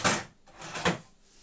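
Drawer on a workbench sliding open or shut, heard as two short, rough scraping slides about three quarters of a second apart, close by and fairly loud.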